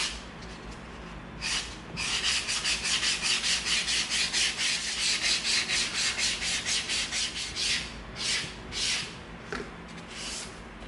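A 220-grit sanding stick rubs over EVA foam in a fast, steady back-and-forth rhythm, producing close, raspy scratching strokes after a couple of initial passes, then slowing to a few final strokes.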